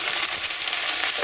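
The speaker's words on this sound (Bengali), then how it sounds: "এবার চলো দেখে নেব যে আলুটা ভাজা হয়েছে না।" Potatoes fry steadily in a pan for a curry, giving a continuous close, bright sizzle with faint stirring texture and no voices.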